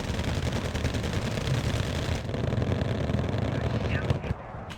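KFV vehicles in Wargame: Red Dragon fire their guns in a dense, continuous rattle of gunfire that keeps up without a break, loud throughout, then drops off abruptly near the end.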